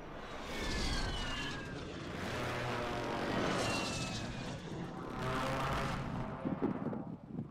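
Helicopter flying in the video game Call of Duty: a loud, continuous engine and rotor roar that swells and fades in waves, close by, with no talking.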